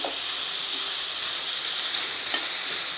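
Radish greens with salt are stirred into onions in a hot pan, giving a steady close sizzle and hiss with a few faint scrapes of the spoon and no talk.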